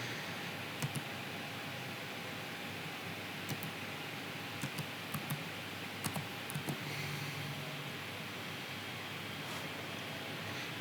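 Faint, sparse keystrokes on a computer keyboard while data is re-entered into an online form, scattered single clicks over a steady background hiss.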